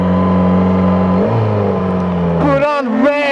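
A Yamaha XJ600 motorcycle engine on a ride, a loud steady hum that drops in pitch partway through, then revs with wavering rising and falling pitch near the end.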